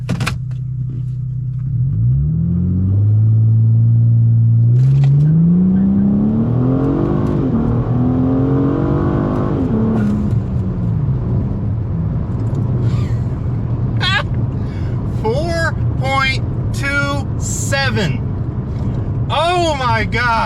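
A Ford Taurus SHO launches hard in a 0-60 run, its engine rising from idle into a loud, climbing rev with gear changes, while a driver talks excitedly over the engine noise near the end.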